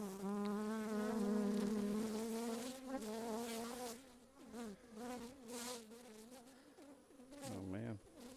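Honey bees buzz around hives at an apiary during a Varroa mite treatment, a close, loud wavering drone that rises and dips as individual bees pass near, with softer buzzing in the background.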